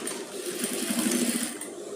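A sewing machine runs a continuous fast stitch along a marked line on a padded gown, a steady close whirring buzz for the full two seconds with no voices.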